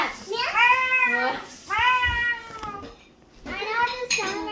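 A child imitates a cat with several drawn-out, high, wavering meows, loud and close, with short gaps between them.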